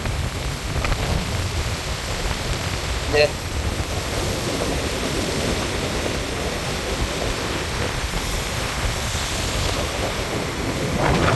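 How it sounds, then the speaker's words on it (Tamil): Rough sea waves crash on the Jaffna coast in stormy wind, a dense, constant roar of surf and gusts with no clear breaks, loud and enveloping. "ஒரே அலை அடிபடுறதானே, அடிபட்டு அந்த நுரைகள் வந்து அந்த பறக்க தொடங்குது காத்துக்கு."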